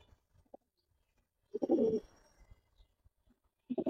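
Pigeons kept for sale give a single soft, low coo in the middle. Faint clicks and a brief stir of coos near the end sit against an otherwise quiet background.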